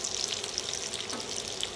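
Egg foo young, chicken, fries in a pan with a steady, close crackling sizzle that runs unbroken throughout, with no voices over it.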